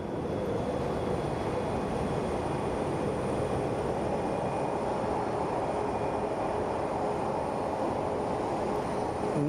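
An airplane takes off at Phoenix Sky Harbor Airport as a heavy, steady jet roar fills the whole stretch at constant loudness, broadband and unbroken, with no voices.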